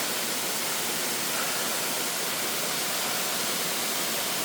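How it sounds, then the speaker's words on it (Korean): Wibong Waterfall in Korea, a designated scenic site, pours in a loud, dense, unbroken roar of falling water that holds constant throughout with no voices. "위봉폭포입니다."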